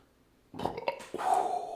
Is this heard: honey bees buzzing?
no